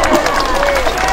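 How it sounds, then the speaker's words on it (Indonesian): Audience applause at a religious gathering in Wonosobo, a short burst of dense clapping and crowd noise from a large group, loud and close. "Tepuk tangan."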